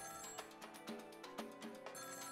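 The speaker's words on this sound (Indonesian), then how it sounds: "Kayaknya teleponnya bunyi." A telephone rings in the video game Ghost Trick, a repeating electronic trill in quick regular bursts, faint and alone.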